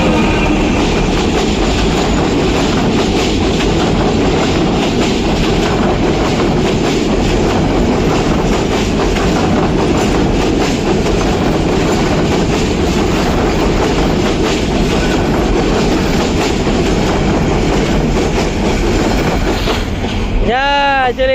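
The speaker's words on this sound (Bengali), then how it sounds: "ট্রেন আসতেছে বাবা, সাবধানে সাবধানে সাবধানে" A train rolls past on railway tracks, a loud, steady rumble and rhythmic wheel clatter close by that fills the whole stretch, with voices faintly audible beneath it.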